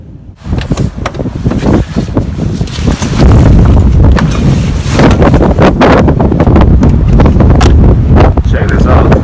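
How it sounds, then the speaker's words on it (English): Strong wind in a winter windstorm buffets the microphone and surroundings with a loud, continuous roar that grows heavier partway through, with gusty rumbling and rustling throughout. "I wouldn't say snowstorm, but windstorm for sure."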